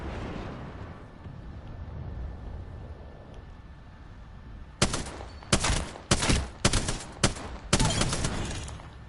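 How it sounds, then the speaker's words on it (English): Rapid bursts of automatic gunfire in the video game Apex Legends, five or six loud close volleys in quick succession following a low rumbling game ambience. "Getting shot at! Firing!"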